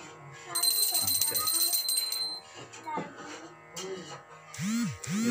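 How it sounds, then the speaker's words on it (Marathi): A small brass puja hand bell rings during Ganesh installation worship at a Konkan home in Devgad, Sindhudurg, giving a bright sustained jingle early on while a voice talks over the ritual. "आणि आवाज करायचा, घंटा वाजवायची."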